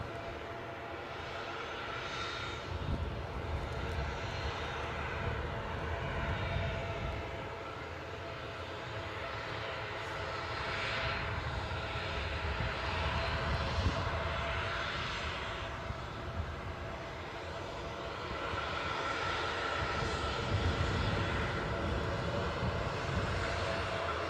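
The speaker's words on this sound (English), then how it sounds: "This plane off to Fuerteventura." A passenger airplane departing Newcastle airport for Fuerteventura roars steadily from a distance, a broad sustained engine rumble swelling and easing over about twenty-four seconds outdoors.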